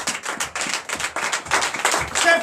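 A church congregation claps together in a steady, dense round of handclaps that swells slightly toward the end, close and loud with no talking over it.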